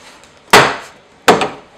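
A screwdriver pops the door panel clips off a Chevrolet Aveo with two sharp, close cracks about three-quarters of a second apart, each followed by a brief rattle.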